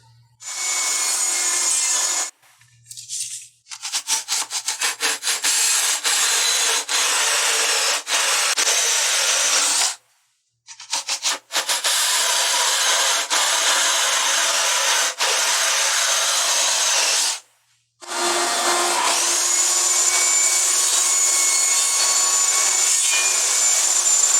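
Pine pallet wood being sawn in long continuous strokes with a few short pauses, loud and close, as pieces are cut for a router table dust box.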